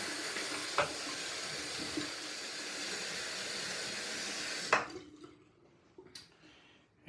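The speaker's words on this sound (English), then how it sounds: "I'm going to do a quick brush cleaning here" Shaving brush rinsed under a running tap, a steady rush of water that cuts off abruptly partway through, followed by a few faint drips and small handling clicks.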